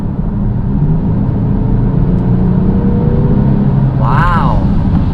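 A 2020 Genesis G70's engine pulls under acceleration as a steady, loud drone that builds in the cabin, with road rumble beneath and a brief higher whine near the end.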